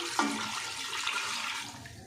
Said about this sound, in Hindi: तो ये मैं इसमें पानी डाल देती हूँ।